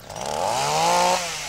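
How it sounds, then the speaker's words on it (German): A chainsaw sound effect in a German radio play revs up in one short, loud, close buzzing burst that rises in pitch and then eases off. "sah einen Hund mit einer Kettensäge"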